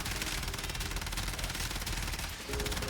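An arc gun in the video game Warframe fires in a continuous, rapid machine-gun-like burst, loud and dense, with a brief dip near the end before the firing resumes.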